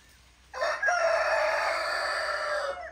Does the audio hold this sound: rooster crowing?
yes